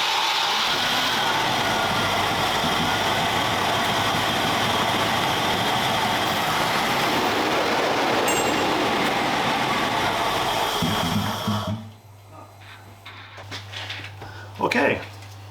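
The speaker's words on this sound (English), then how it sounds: "the idle will be rough." Range Rover Classic engine idling roughly, a loud steady broadband rumble and hiss that runs for about twelve seconds, then cuts out, leaving quieter knocks and clatter.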